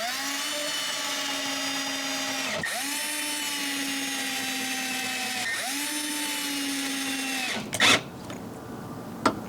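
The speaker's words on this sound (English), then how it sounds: "let's drill the side, we're good to go" A power drill whines steadily at close range, drilling into the side of a new door, its pitch dipping briefly twice as the bit bites, then stopping with a few clunks.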